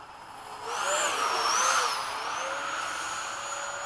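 Freewing 80mm MiG-21 model jet with a custom afterburner making a low gear-down pass after sunset, heard as a rising and then fading turbine whine with a gliding high-pitched tone, fairly near and moderately loud.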